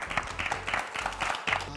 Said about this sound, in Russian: Так, аплодисменты.